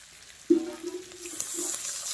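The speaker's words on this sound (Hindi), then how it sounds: "अब इसमें देना होगा थोड़ा पानी," Water hits a hot pan of frying pork with fermented bamboo shoot, setting off a sudden sharp sizzle that continues as a steady hissing bubble, fairly close and with no talking.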